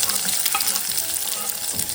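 Chopped shallots sizzle steadily in hot oil with mustard seeds and urad dal, a dense, continuous crackling fry with faint stirring, close and loud, without any talking.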